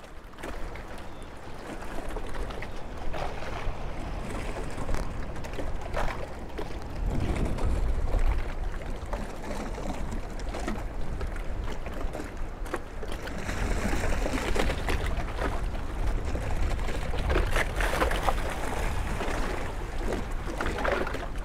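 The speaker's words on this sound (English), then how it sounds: "let's listen to the sound of the sea on the dock" Sea water lapping and sloshing against the edge of a boathouse dock in New England, a steady wash of small waves with wind noise and irregular splashes throughout, no talking.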